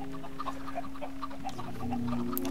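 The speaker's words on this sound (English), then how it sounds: "For some reason the chickens just keep swimming and they don't jump down" Minecraft chickens on a quad-chicken cooker farm give soft, short clucks in a quick scattered series, fairly faint and alone over a low steady hum.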